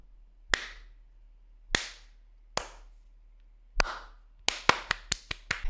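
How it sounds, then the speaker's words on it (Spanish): Applause sound effect from a web page that starts slowly: four isolated, sharp claps spaced about a second apart, then a quicker run of claps speeding up, each with a brief ringing tail over a low steady hum. "¿vieron que la página arranca aplaudiendo re lento?"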